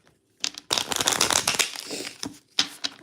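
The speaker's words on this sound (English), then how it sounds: "Let me shuffle good." Tarot cards are shuffled by hand in quick riffling bursts, a crisp papery flutter that starts and stops in short runs, close and fairly quiet, with no voices.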